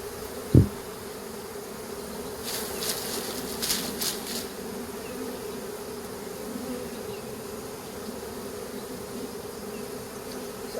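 A swarm of honey bees being moved into a new hive, giving a faint, steady buzzing drone heard close up, with a sharp knock near the start and a few light rustles partway through.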